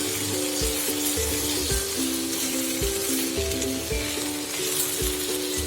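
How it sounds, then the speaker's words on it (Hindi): Steady, close sizzling of fava beans and potatoes frying with garlic, ginger and onion in a hot pan, a continuous crackling hiss with a faint tonal hum underneath. "सब्जी को ऐसे ही लहसुन अदरक और प्याज के साथ फ्राई कर लिया है"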